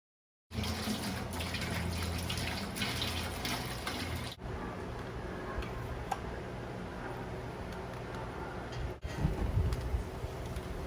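Water pouring during beer brewing outdoors, a steady continuous splashing rush heard alone at moderate volume for several seconds.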